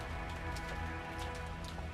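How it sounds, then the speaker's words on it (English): A wind and rain storm sound effect: steady rain pattering on a surface with a low, sustained rumble of wind underneath, continuous and fairly loud with no voices. "only the howl of the wind and the rain."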